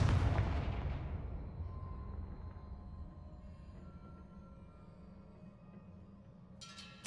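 Blasting spell explosions in a wizard video game: a loud, deep boom that rumbles and slowly fades over several seconds, followed by a brief sharp burst near the end.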